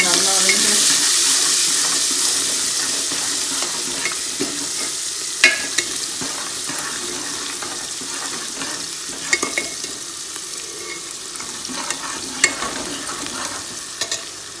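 Onions frying in oil in a pan for kadhi pakora give a loud, steady bright sizzle throughout, with occasional clicks and taps of a stirring spoon against the pan.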